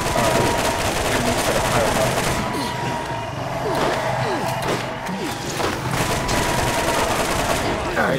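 Gunfire in the shooter game Borderlands: rapid bursts of automatic shots and sharp cracks, loud and continuous, with a few heavier impacts mixed into the din.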